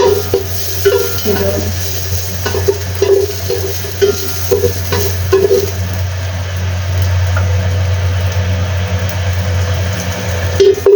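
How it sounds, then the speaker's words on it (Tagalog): Steady sizzling of ginger sautéing in a pan, with frequent scraping and stirring clicks over a low continuous hum, close and fairly loud throughout. "basta igisa ko lang na maayos yung luya"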